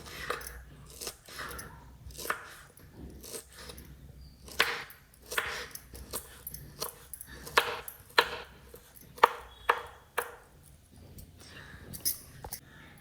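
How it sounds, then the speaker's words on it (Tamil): Quiet, irregular knife chopping of banana flower finely on a board, with quick taps in uneven bursts, close by and fairly soft. "இப்போ நான் எல்லாத்தையும் கட் பண்ணிவிட்டு காட்டுறேன்."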